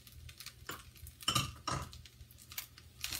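Chicken fried rice with green onion being mixed in a pan, with irregular scraping and clinking of a utensil against the metal pan.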